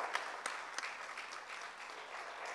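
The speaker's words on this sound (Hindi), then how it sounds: "पहले उनके लिए तालियां प्लीज." An audience at a Kashmir Premier League event applauds franchise owners, a fairly faint, distant wash of crowd clapping with a few sharper claps standing out near the start.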